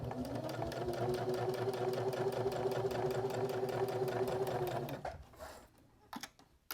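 A home sewing machine runs steadily for about five seconds, stitching straight across the tab of a beginner's fabric drawstring bag, then the motor stops and a few light handling clicks follow.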